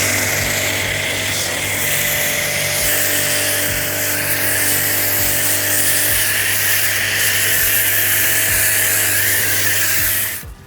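Pressure washer with a clip-on snow foam cannon attachment running steadily in a shed setup, a constant loud motor drone with spray hiss that cuts off at the end.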